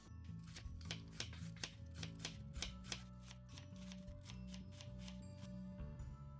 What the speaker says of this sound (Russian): Беру молодую капусту и очень мелко ее шинкую.